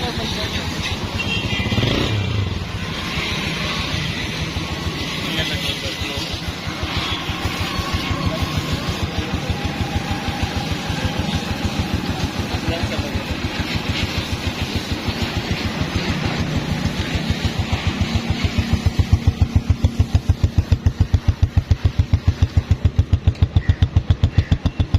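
A restored 2009 Honda Deluxe motorcycle engine running, a steady loud putter close by that grows slightly rougher and louder toward the end, continuing for the whole stretch.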